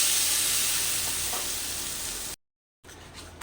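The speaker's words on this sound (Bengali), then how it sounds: "এবার গ্যাসের আঁচটাকে মিডিয়াম করে রাখবো যতক্ষণ না মশলাতে তেল ছেড়ে আসবে ততক্ষণ পর্যন্ত মশলাটা কষতে থাকবো" Spice paste (masala) frying in oil in a pan for rohu fish kalia, a loud continuous close sizzle that cuts out abruptly to silence, then returns more faintly.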